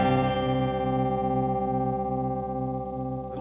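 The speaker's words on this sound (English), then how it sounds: "go to the lithium octave sound, which sounds like this" Electric guitar through a Matthews Effects The Chemist pedal on its lithium octave setting, one sustained organ-like chord with stacked octave tones ringing steadily and slowly fading, played alone without talking.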